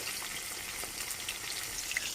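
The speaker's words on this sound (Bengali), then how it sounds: "এই মাছটা না এত ফুটছে যে কি বলবো দেখো তেল চারিদিকে হয়েছে পুরো পট পট করে ফাটছে" Fish fries in hot oil, giving a dense, continuous sizzle with scattered crackles and pops, fairly faint and heard alone.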